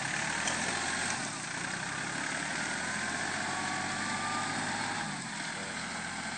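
A tractor engine works a rice paddy on a farm, a steady mid-pitched running drone with a faint whine on top, dipping slightly in level near the end, with no speech.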